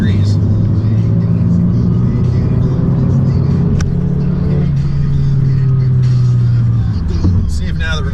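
A car with a cold air intake and an opened-up bumper cruises in fourth gear at about 43 mph, its engine a loud, steady droning hum with road and wind noise that eases slightly toward the end.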